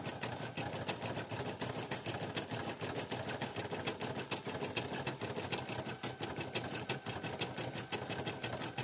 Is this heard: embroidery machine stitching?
yes